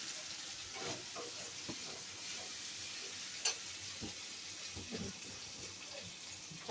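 Rice tipped into a pan of fried-down spice masala crackles with a continuous close sizzle, a few soft knocks and stirring scrapes scattered through it.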